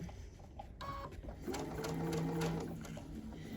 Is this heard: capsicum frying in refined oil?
no